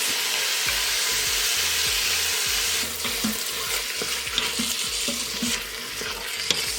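Water poured into a hot pan of pasta with tomato sauce, giving a loud steady sizzle and hiss, then scraping stirring strokes and bubbling as the sizzle eases, heard up close.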